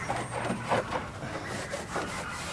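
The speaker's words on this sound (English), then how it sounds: "we're gonna use a microfiber cloth and just get in there and really get it clean" A microfiber cloth scrubs grime in a car engine bay, producing a steady, close rubbing swish in rhythmic back-and-forth strokes with no voices.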